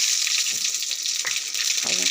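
Panch phoron spices crackling and sizzling in hot oil in a wok, a steady bright hiss with a few sharper pops, close and continuous throughout.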